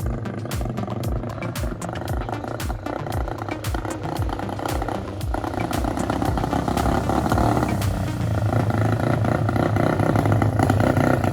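A Sinnis Stealth 125 motorcycle running rough on a cold day, its engine droning and pulsing steadily while riding, loud and close with wind noise and the occasional sharp tick.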